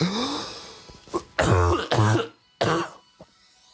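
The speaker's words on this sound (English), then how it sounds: "Oh no, I'm going to cough." A person who is unwell coughs and clears their throat in short, close bursts, three or four harsh hacks spaced across a few seconds with brief quiet gaps.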